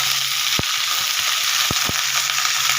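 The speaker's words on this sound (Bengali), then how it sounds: "এই লাউ পাতাগুলো দিয়ে দেবো দিয়ে আমি ভালো করে ভেজে নেব আবার" Dried shrimp, bottle gourd leaves and tomato fry in mustard oil, producing a loud, steady, close sizzle with a few sharp utensil knocks.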